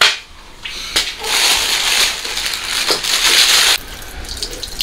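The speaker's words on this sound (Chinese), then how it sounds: "咱们简单的用这个钢丝球刷一下就行了" Pork trotters and hocks, already singed, scrubbed with a steel wool pad under running water: a harsh, continuous rasping scrape close by, with gushing water and a few brief pauses.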